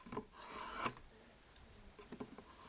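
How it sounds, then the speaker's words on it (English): A hand tool rasps a groove into the back of a wooden shingle board, with short, faint scraping strokes in uneven bursts. "He cuts a nut in the back of the board."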